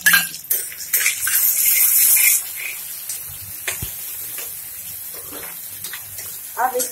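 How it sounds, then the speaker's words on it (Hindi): Half-chopped tomato goes into a hot pan of poha base, with a clatter of utensils and a bright, loud hiss of sizzling for a couple of seconds that then fades to softer scraping and stirring. "अभी इसमें हम टोमेटो डालेंगे, आधा कटा हुआ टोमेटो इसमें हम डालेंगे।"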